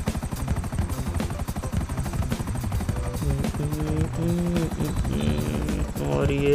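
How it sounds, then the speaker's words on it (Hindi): A helicopter in the video game GTA 5 gives a loud, continuous rhythmic rotor thrum, with a voice and tonal game sounds layered over it. "टायरों के अंदर से ले जाना है हेलीकॉप्टर को,"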